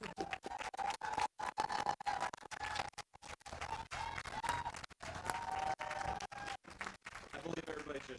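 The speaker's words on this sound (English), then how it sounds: "I believe everybody's just cheering because I'm the last one to speak" An audience at a doctoral hooding ceremony applauds in steady, sustained clapping with faint cheering, heard through a livestream with broken, choppy sound.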